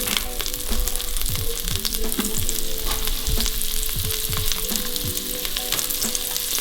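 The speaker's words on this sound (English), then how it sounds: "So I'm going to dump in my shallots." Shallots sautéing in oil in an Instant Pot for beef bourguignon, a loud, dense, steady sizzle and crackle with frequent light stirring clicks throughout, close up and no voices.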